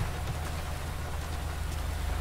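Steady rainfall in the video game GTA 5, an even, continuous hiss of rain on surfaces with a low hum underneath, no talking.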